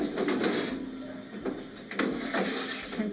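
A dishwasher rack rolls out on its rails in a home kitchen, giving a close, scraping rattle with a few sharper clacks throughout.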